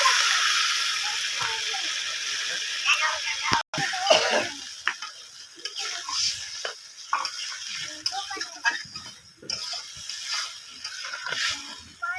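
Water poured into hot spice paste in a pan, with oil already separating, while cooking a Bengali rohu fish and potato curry; a steady close sizzle and hiss runs throughout, broken by a brief cut and soft stirring clatter.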